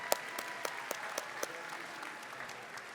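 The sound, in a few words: audience applause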